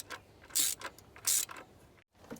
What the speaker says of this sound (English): I'm going to go around and I'm just going to snug them down a little bit, just to make sure the valve cover is seated